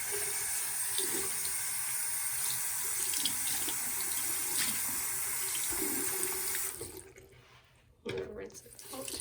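Tap water runs steadily into a sink while a magic eraser is rinsed under it, a close, continuous splashing rush that cuts off briefly and then resumes.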